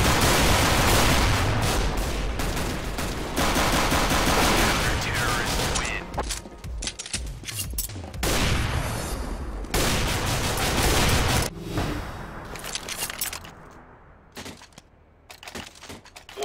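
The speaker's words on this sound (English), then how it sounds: "Who are they shooting at?" Dense, loud gunfire in the video game Counter-Strike: Global Offensive, rapid overlapping bursts and shots continuing almost without pause, thinning out near the end.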